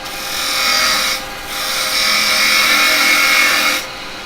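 Wood spins on a lathe under a 9mm carbide cutting tool, making a steady loud scraping hiss that fades briefly, then resumes for a longer pass before easing off. Stock is being turned for a craft fair.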